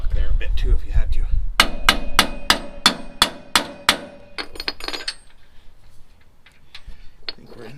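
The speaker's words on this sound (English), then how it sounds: "A couple taps with the hammer, and it looks like we're in there." A hammer strikes a shock absorber into place on a 1976 GMC Jimmy, about eight sharp, evenly spaced metallic taps in quick succession, close and loud, followed by a few scattered clinks and quieter rustling.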